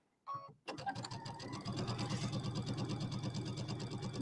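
A home sewing machine runs steadily for about four seconds, stitching backward to lock a seam on a fat-quarter origami bag after a short burst at the start, with a fast regular needle rhythm, close and fairly loud with no talk.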